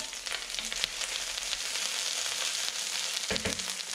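Ginger frying in a hot pan gives a steady, close sizzle with light stirring scrapes and a brief louder crackle near the end.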